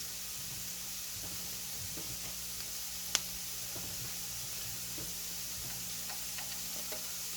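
Butter sizzles and crackles in a hot pan, a soft continuous hiss dotted with small pops and one sharp tick, quiet and close with no one talking.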